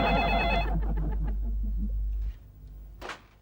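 A telephone rings briefly indoors, its tone ringing out over a steady low hum before fading into quieter room sound.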